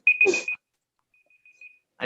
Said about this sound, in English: That's my alarm telling me I've been talking for too long.